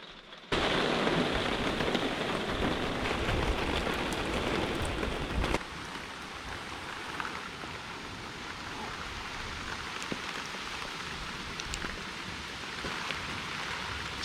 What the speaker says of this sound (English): It's raining all week.